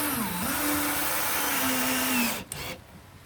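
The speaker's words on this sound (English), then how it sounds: "Let's see if I hit the screw through" Power drill driving a screw through wood, a steady loud whine with one pitch dip near the start, running alone for over two seconds before cutting off abruptly.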